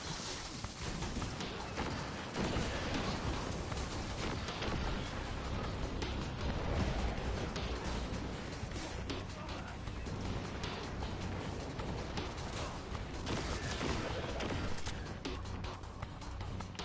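A heavy-recoil weapon fires in Destiny 2 during a fight against Cyclops enemies, as a dense, continuous run of loud, booming shots and crashing impacts with no pauses.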